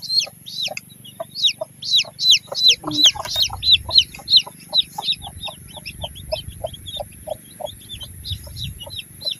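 Chickens cluck in a quick, steady series of sharp calls, fairly close, with a low rumble of background noise underneath.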